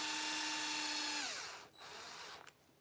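Power drill driving long screws into an Axial Capra RC crawler build, a steady loud whine that winds down around the midpoint, then a short second burst near the end, with no talk.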